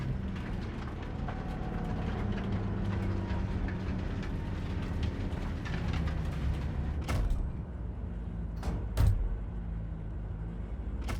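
A train in the video game Cyberpunk 2077 rumbles past, a loud steady mechanical roar with rolling low-frequency drone and a few sharp clanks near the end, alone without talk.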